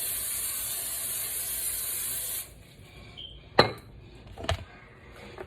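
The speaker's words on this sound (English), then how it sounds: "we're going to spray it down a little bit" Cooking spray hisses steadily into a glass pan for about two seconds, then stops; a couple of sharp clicks and knocks follow as the can and pan are handled.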